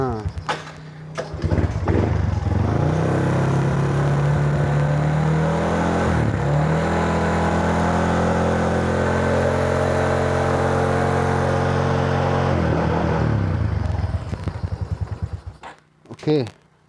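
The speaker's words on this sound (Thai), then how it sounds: "ติดเครื่องดูดีกว่า" A Honda Wave 125i motorcycle engine catches after brief cranking and runs at a steady, close, buzzing idle for over ten seconds, then cuts off, with a short voice at the end.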